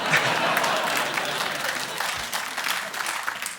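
A studio audience breaks into applause on a chat show, a dense, steady patter of many hands clapping that slowly tapers, with a voice talking over it.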